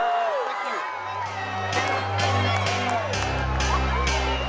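A graduation crowd outdoors on a field cheers and whoops with scattered clapping, while a voice speaks over a loudspeaker and a low tone hums underneath.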